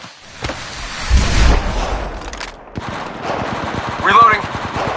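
Rapid automatic weapon fire in the mobile shooter game Apex Legends Mobile, loud bursts of rattling shots with a heavy boom and dense volleys near the end, with a voice talking over the action.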